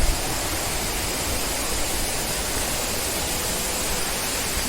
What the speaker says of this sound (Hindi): पानी की धारा की आवाज आ रही है इधर भी।